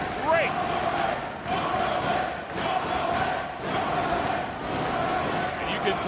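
A wrestling crowd at a Ring of Honor tag team match roars and cheers in a steady, loud arena wash with a few swells and dips, while a commentator's voice sits partly under the din.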